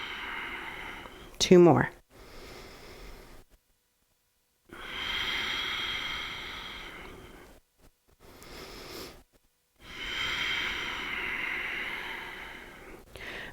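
Slow, drawn-out exhales during a yoga side bend come as soft, broad breathy rushes in long stretches separated by quiet pauses, with a brief sharp sniff near the start and an instructor speaking nearby.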